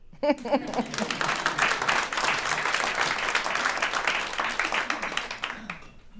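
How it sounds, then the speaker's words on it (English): A live audience claps after a poem reading, a quick burst that builds into steady, dense applause, fairly close and loud, with a voice speaking briefly at the start before the clapping fades near the end. "you can clap"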